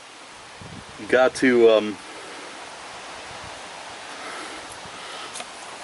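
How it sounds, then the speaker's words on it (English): Steady outdoor wind blowing as broadband rushing noise at a moderate level, with someone speaking briefly near the start. "Man, it's getting windy out here."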